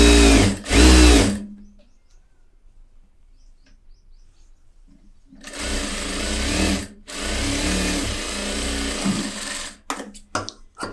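Sewing machine stitching cloth in a tailoring setting: a short loud burst, a long quiet pause, then a sustained whirring run of stitching with a brief stop and a few short bursts at the end.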